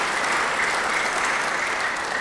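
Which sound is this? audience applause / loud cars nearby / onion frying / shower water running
audience applause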